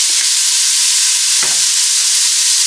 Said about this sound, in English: you want to saute these till they start to get tender